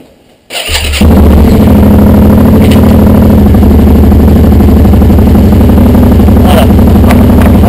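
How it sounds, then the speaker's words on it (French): A motorcycle sits on its stand, its engine cranking, then catching and settling into a loud, steady close-range running idle that continues to the end. "On démarre la moto."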